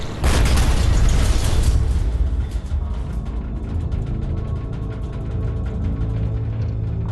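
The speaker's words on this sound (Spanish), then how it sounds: "Explota una carga de profundidad más." An underwater depth charge explodes in a deep, heavy boom with a sharp onset, then rolls into a long, rumbling low-frequency reverberation that slowly fades.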